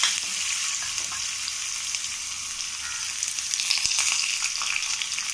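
Curry leaves and asafoetida sizzle in hot oil as a tempering for Madurai-style bun dosa, a steady, close crackle and hiss with a few sharper pops and no talking.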